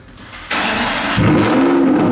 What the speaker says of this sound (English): Wow! That's a good noise. Rumble of the V12.